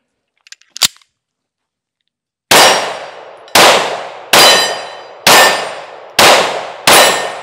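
A Smith & Wesson Shield Plus Carry Comp pistol fires six loud, sharp shots at close range, spaced about a second apart, each ringing briefly. A faint click comes before the first shot.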